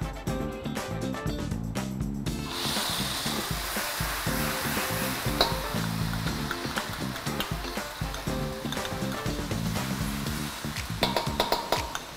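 Ground spice paste hits hot oil in a wok on a stove and sizzles loudly and continuously, a bright hissing fry over steady low background sound throughout.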